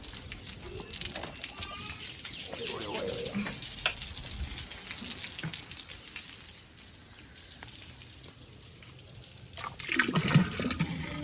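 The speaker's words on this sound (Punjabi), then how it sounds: "ਹਾਈ ਟੈਂਕੀ ਭਰ ਗਈ ਮੈਂ ਬੰਦ ਕਰਕੇ ਆ" An overhead household water tank overflows, a steady rushing splash of spilling water that eases partway and then surges louder near the end, with faint voices in the background.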